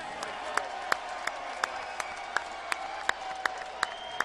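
Boxing arena crowd applauding heavyweight Mike Tyson after a fight, with a dense, steady wash of clapping and crowd noise, sharp camera-like clicks popping out at regular intervals.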